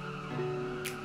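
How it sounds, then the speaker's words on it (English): Car sliding in the Roblox racing game Palm Ridge, a short steady engine hum with faint tyre skid noise and a brief hiss at the end. "What is happening with my handbrake? I'm like sliding everywhere."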